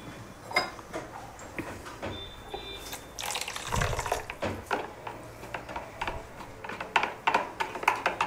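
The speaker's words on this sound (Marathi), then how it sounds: "आता मस्तपैकी ह्याला थोडंसं पाणी ॲड करायचं आहे।" Water pours and splashes into a mixer jar in uneven bursts, mixed with small clicks and knocks of handling.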